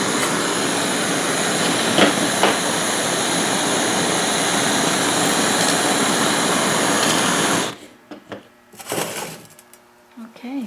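Jewelry torch searing enamel threads off the front of small jewelry pieces, a steady loud broadband roar held for several seconds before cutting off, followed by quieter scattered clicks and noises.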